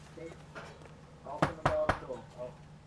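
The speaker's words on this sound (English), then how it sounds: "Bit of a loud knock" Three loud knocks on a door in the video game LA Noire, quick and close together, with a voice speaking briefly before and after.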